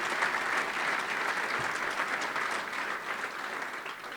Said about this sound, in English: a round of applause for that unbelievable commitment as well